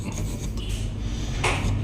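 A hand file rasps steadily across a convex metal surface on a Kenzi Boston part, working it down to a flat track, with continuous scraping strokes close by and no talk.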